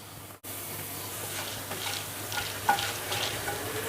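Urad dal frying in oil, a close steady sizzle with light stirring scrapes and a brief clink, no one speaking.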